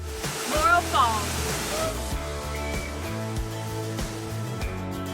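Laurel Falls, a two-tier waterfall in the Great Smoky Mountains, gives a steady broadband rush of falling water in the background, with people talking over it nearby.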